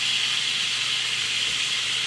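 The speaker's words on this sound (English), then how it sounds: "We're going to sear off for a few minutes on this side now." Baby bella mushrooms sear in olive oil in a pan, giving a steady, loud broadband sizzle and hiss that holds evenly for the whole stretch with no talking.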